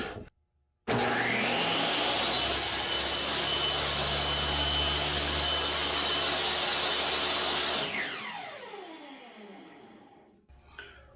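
A power saw cuts wood through a finger joint jig. It starts abruptly into a loud, sustained whine lasting several seconds, then winds down gradually to silence, with no speech.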